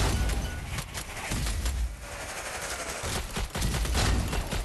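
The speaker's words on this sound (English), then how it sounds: "in this gameplay that you're seeing here, I pretty much exclusively use the shotgun" Shotgun gunfire in the video game Strange Brigade: dense, loud blasts and impacts pile up into near-continuous gameplay combat noise, with rapid sharp shots throughout.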